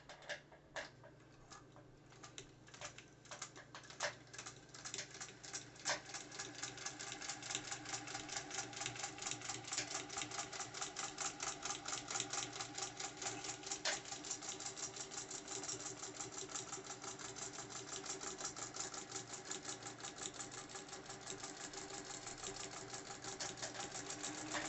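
A vintage Singer 201K sewing machine stitches on a mini quilt frame, running steadily with a fast, even mechanical ticking and motor hum for the whole stretch, close and fairly loud with no talking.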